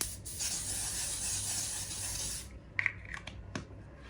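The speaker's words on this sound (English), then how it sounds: "I use this L'Oreal infallible setting spray" A steady hiss of L'Oreal Infallible setting spray misting onto a face, one continuous spray lasting a couple of seconds, close and soft, followed by a few faint handling clicks.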